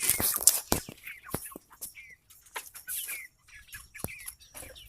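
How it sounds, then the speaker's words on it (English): Red Ranger broiler chickens at breakfast feeding, a flurry of soft clucks, chirps and short calls from several birds nearby, with scattered knocks and rustles between them. "Day 58, Red Ranger broilers."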